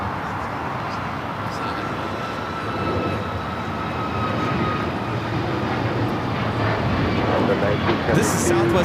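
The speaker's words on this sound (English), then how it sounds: "This is Southwest Airlines 192 taking off to Houston Hobby on the MAX 8" A Southwest Airlines Boeing 737 MAX 8 takes off at LAX, a loud, steady jet roar that builds slightly and holds throughout, with faint tonal whine above it.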